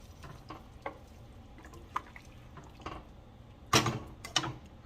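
A spoon stirs chopped jalapenos into a pot of albondigas soup, giving soft scraping and sloshing knocks that build into a louder clatter near the end, close and with no talking.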